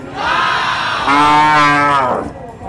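A carabao (water buffalo) at a livestock market gives a loud, close, drawn-out moo that rises and then fades over a couple of seconds.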